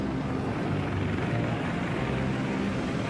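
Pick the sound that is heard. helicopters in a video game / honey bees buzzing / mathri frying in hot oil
helicopters in a video game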